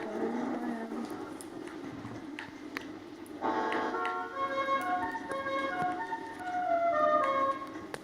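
A modified Bugatti in the video game GTA 5 sounds a melodic musical horn, a tune of sustained tones that plays clearly over faint background sound.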